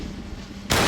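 A sudden loud, broadband boom from an explosive charge fired at a safe, bursting in abruptly after a brief quieter lead-in and filling the end of the short moment.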